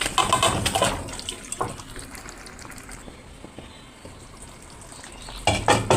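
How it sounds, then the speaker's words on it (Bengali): Marinated chicken goes into a pan of cooked spice masala for Hyderabadi chicken masala curry, giving a loud wet sizzle with stirring clatter at the start, a quieter frying hiss through the middle, and another burst near the end. "এখন আমি ম্যারিনেট করা মাংসগুলো দিয়ে দেবো।"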